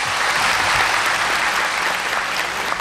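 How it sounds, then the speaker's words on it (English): Loud, sustained round of audience applause filling the whole stretch without a break, given during a book launch video conference. "Let's express our heartfelt thanks and deep gratitude to Supreme Master Ching Hai with a big round of applause."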